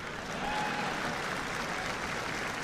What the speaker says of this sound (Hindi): फिर ताली में दम नहीं है